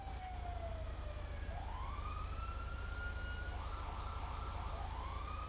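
A wailing emergency siren sweeps up and down over a low engine rumble, fairly faint and continuous, in the video game GTA V.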